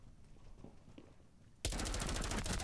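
Gunfire in the video game Rainbow Six Siege erupts suddenly as a loud, sustained automatic burst after a quiet stretch of faint movement.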